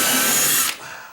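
Power drill running at high speed bores into the wooden edge of a door, a loud steady whine that cuts off abruptly partway through, leaving a quieter tail.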